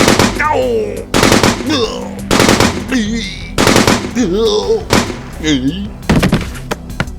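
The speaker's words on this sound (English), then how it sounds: "That's right. I used a gun." A cartoon gun goes off in rapid bursts of sharp shots, loud and close, mixed with exaggerated animated voices reacting between the blasts.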